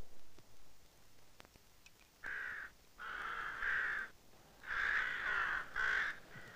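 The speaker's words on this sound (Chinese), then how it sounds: "乌鸦当头叫，不是好兆。" A crow caws in a series of loud, harsh calls, spaced irregularly over several seconds after a quieter start with faint ticking sounds.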